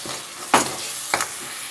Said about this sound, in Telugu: ఆ పేస్ట్ వేసేస్తున్నాను టమాటా పచ్చివాసన పోయే వరకు కూడా వేయించాలి